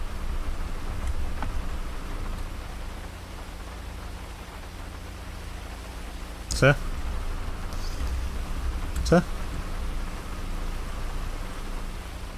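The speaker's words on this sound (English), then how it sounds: "Now it started raining." Steady in-game rain hiss from FiveM (GTA V) roleplay, a continuous wash of falling rain with two brief louder bursts partway through and a short spoken word over it.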